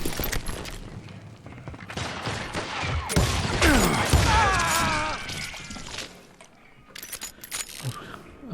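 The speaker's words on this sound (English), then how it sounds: "I'm gonna shoot!" Gunfire in the Western shooter game Call of Juarez Gunslinger comes as a dense, rattling flurry of shots with metallic ringing and clinking debris, loud and close, thinning out before a few final bursts, with game voices faintly underneath.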